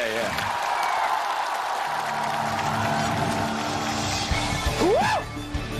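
A studio audience at the Chinese TV challenge show Impossible Challenge claps and cheers in a steady wash of applause, mixed with music and a voice near the end.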